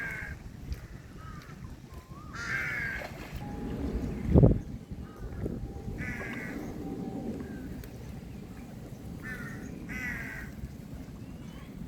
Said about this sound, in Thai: นกบิน